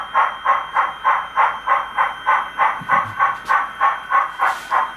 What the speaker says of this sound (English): Okay, the train's coming this way.